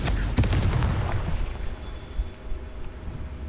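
The Confringo fire spell in Hogwarts Legacy goes off as a burst of explosive booms and crackling in the first second, then fades into a lingering rumbling wash of noise.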